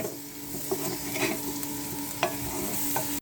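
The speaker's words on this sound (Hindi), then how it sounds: "उसको फिर थोड़ा भूनेंगे।" Potatoes with cumin, spices, coriander powder and fresh coriander leaves frying in a pan, a steady close sizzle with occasional scrapes and knocks of a spoon stirring them.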